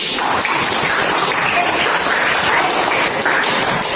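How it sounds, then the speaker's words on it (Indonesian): Steady applause from a crowd, dense and continuous throughout with no pauses, fairly loud and even. "Kemarin juga tepuk tangan dulu."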